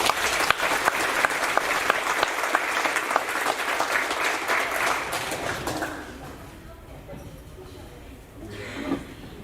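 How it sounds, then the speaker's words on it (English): A crowd applauds honor roll students at a middle school award ceremony, dense steady clapping for about six seconds before fading to quiet room noise with a brief bump near the end. "Let's give them another round of applause"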